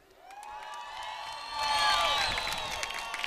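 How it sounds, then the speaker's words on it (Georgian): A studio crowd at an international TV talent competition whoops and cheers, building from a thin start into a louder swell with scattered shouts and whistles, no clear clapping distinct. "აპლოდისმენტები"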